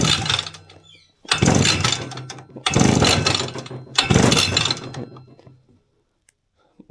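A string trimmer engine is cranked by its starter cord with the throttle held open during a compression test. Three loud, close, rasping pulls, each about a second long, follow a softer first stroke, with no talking.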